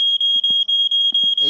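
A household smoke alarm sounds a loud, piercing high-pitched beep in quick repeated pulses, close by, with a few faint knocks and rustles in the gaps.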